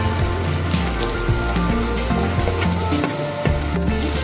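Chopped onion and carrot fry in hot oil, giving a loud, close, steady sizzle and crackle with scraping stirs throughout and no talking.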